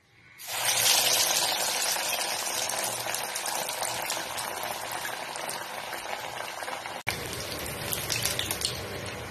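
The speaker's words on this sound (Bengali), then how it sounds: "তেল গরম হয়ে গেছে। এবার এখান থেকে ফিশ ফ্রাই নিয়ে দিচ্ছি।" Loud, dense crackling and bubbling of bhetki fish fry pieces frying in hot oil, steady throughout with a brief dip near the end.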